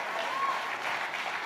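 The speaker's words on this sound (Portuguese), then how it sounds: "Você pode aplaudir Jesus?" A church congregation applauds in a steady, dense wash of clapping that holds at an even level for the whole stretch, with no pauses or talking over it.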